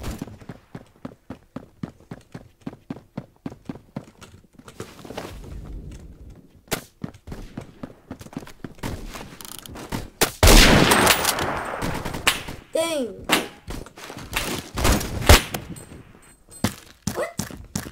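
Gunfire in the Roblox shooter Phantom Forces: rapid bursts of sharp shots and footsteps, a dense volley midway, then scattered single reports, close and loud.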